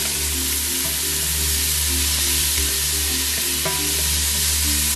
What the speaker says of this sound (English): I'm gonna fry all, so getting ready.